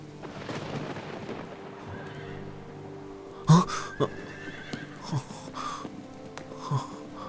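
A horse neighs in a Chinese action movie with Tamil dubbing, several loud shrill whinnies and snorts rising out of a low rumbling background, with brief pauses between the calls.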